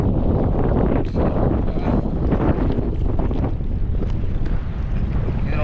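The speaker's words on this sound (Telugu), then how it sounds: "గాలి బాగా లేచింది." Strong wind roars over the microphone on a fishing boat at sea, a loud continuous buffeting rush with the low churn of water and hull beneath.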